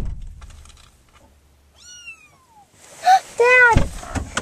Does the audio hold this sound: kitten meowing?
yes